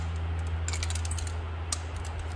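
A torque wrench set to its lowest setting clicks while fitting accessories and hardware to a 1958-66 Thunderbird FE engine, with a few sharp, close clicks over a steady background hum.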